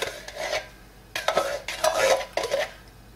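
A utensil stirs coconut milk heating in a pan, giving repeated scraping strokes in bursts with brief pauses between them, close and moderately loud.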